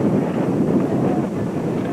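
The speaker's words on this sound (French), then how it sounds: "Le vent." Strong wind blowing across the Magdalen Islands in the Gulf of Saint Lawrence, a steady, loud, buffeting roar with gusty low rumble throughout, heard alone without voices.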